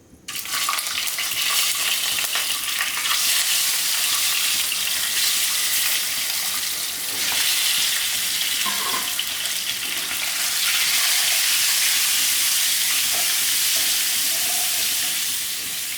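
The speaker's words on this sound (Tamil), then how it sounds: "அப்போ இப்போ எக்கு வந்து ஃப்ரை பண்ணி எடுத்து வச்சுக்கலாம்" Eggs fry with salt and turmeric in oil in a pan for a Tamil-style egg curry, producing a loud, continuous crackling sizzle that starts abruptly and runs unbroken, with occasional faint clinks.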